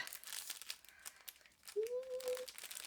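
Rhinestones being unwrapped from plastic packaging, giving soft crinkling and tearing of plastic close by, with a brief tonal squeak near the end.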